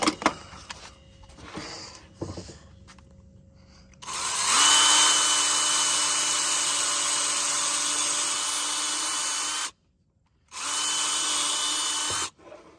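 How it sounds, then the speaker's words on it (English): Cordless power drill driving into wood while building saw horses: a few short taps and bursts, then a long steady high whine of the motor, a brief stop, and another sustained run, close and loud. "We'll take our drill."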